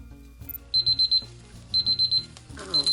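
A countdown timer alarm goes off after four minutes while a silicone mold for napkin-holder rings is being made, sounding three bursts of rapid high beeps with a pause between them over faint background noise.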